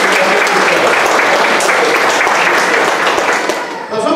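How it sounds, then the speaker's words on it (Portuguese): A church congregation at a Sunday celebration service gives a loud, sustained round of applause for its ministry leader, dense clapping filling the whole stretch before tapering slightly at the end. "Uma salva de palmas ao nosso líder de ministério."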